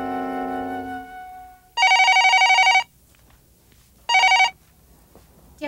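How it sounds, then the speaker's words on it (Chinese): A telephone rings twice, loud, clear electronic trills of about a second and half a second separated by quiet, following a fading tonal sound at the start; no voices. "建国啊，你怎么这个时候打电话来啊？"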